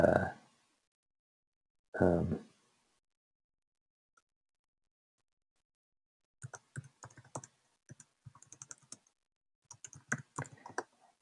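A computer keyboard is typed on in bursts of quick clicking keystrokes, close and clear, after two short stretches of a voice speaking, with silent gaps between.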